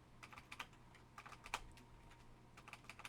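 Keystrokes clatter on a computer keyboard during game-development coding, coming in irregular bursts of quick clicks with short pauses in between, close up and fairly quiet with no talking.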